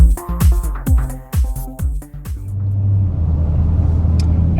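Music plays for the first couple of seconds, then a 2020 widebody Dodge Challenger Scat Pack drives along with a loud, steady, low engine and road rumble.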